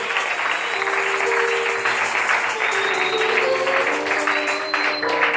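Church congregation applauding loudly at a speaker's call to praise the Lord, a steady wash of clapping and cheering voices filling the hall for the full stretch.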